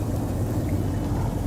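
Heavy rain pours down as a dense, steady hiss and rush, loud and close, filling the short moment without a break and with no talking.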